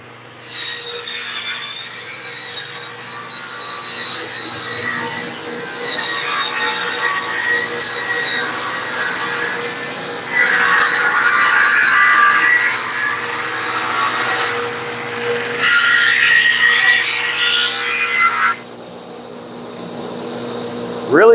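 Dense wood being cut with a power tool, a continuous grinding, rasping drone that rises and falls over several passes, with louder stretches of cutting and a steady machine hum underneath.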